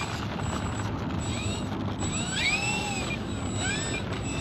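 A FlightLine OV10 Bronco RC model airplane flies overhead, its electric motors giving a steady high whine that rises and falls in pitch as it passes, heard from a moderate distance outdoors.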